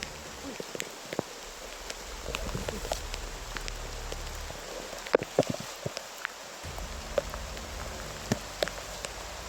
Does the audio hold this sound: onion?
no